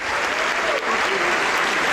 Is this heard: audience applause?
yes